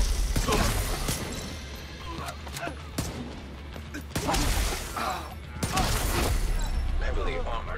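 Gunfire in The Division 2, a looter-shooter game: repeated sharp shots in irregular bursts over a steady mechanical game bed, with a voice talking over parts of it.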